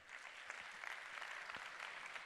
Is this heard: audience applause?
yes